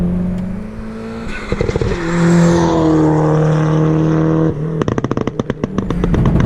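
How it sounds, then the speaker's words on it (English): Hyundai Genesis tuned on E85 with aero parts, its sport exhaust letting out loud, close crackling pops and burbles in rapid bursts each time the throttle lifts, between revving engine pulls. "When you let off in this car, it makes very cool pops and burbles"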